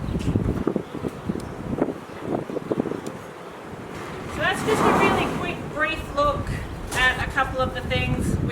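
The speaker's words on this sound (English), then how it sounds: "it's a little bit windy" Gusty outdoor wind buffets the microphone in low rumbling bursts during a brumby's first saddling, while someone talks calmly over it.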